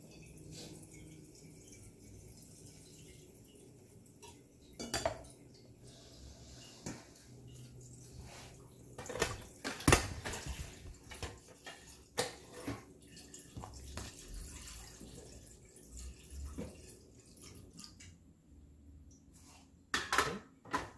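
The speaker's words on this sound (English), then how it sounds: "we're gonna fill a pot with some water" Water running into a pot from a tap, a soft steady splashing stream with occasional clinks of the pot and metallic knocks, close and without speech.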